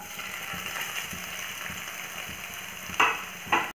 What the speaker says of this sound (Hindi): तो अब हम सारे पनीर को इसमें डालकर सैलो फ्राई कर लेते हैं।